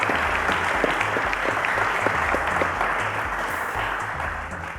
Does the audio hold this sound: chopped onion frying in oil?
no